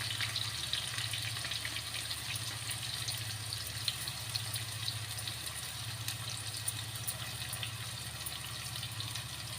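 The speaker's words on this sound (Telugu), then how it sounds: "ఇప్పుడు ఉల్లిపాయలు వేద్దాం. సన్నగా తరిగిన 2 పెద్ద ఉల్లిపాయలు." Thinly sliced onions hit hot oil for Andhra-style fish pulusu, a soft, even sizzle held at moderate distance over a low steady hum, with no talking.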